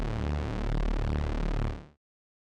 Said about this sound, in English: it starts also with that same raw bass sound